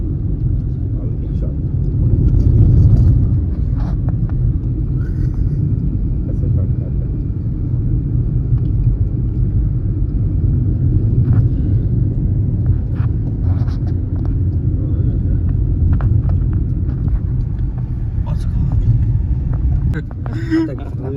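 Car driving along a coastal highway in Konkan, a steady low engine and road rumble heard from inside the cabin, constant throughout with faint intermittent clicks and no clear talk.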